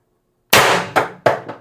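An IntruBuster Gen 2 CO2 air gun with a 4x12g CO2 stock fired once, a sharp loud crack followed by quick metallic ringing echoes in an otherwise quiet space.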